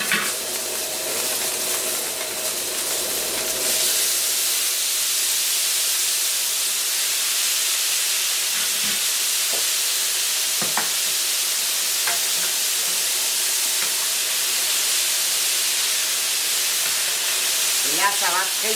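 Mussels cooking on a plancha griddle give a loud, steady sizzle and hiss throughout, with occasional clicks and scrapes of stirring.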